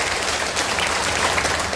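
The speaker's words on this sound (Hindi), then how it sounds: "एक बार जोरदार ताली बजाइए आदरणीय प्रशांत जी को।" Open-air crowd at a Jan Suraaj rally applauding Prashant Kishor, a loud, even clatter of many hands that runs without a break through the brief moment.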